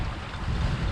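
Brief rush of wind and waves aboard a sailboat under reefed mainsail with the motor off near Percé, a steady broadband wash with low rumbling water, no voices.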